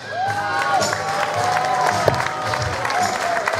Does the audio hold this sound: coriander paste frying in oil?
no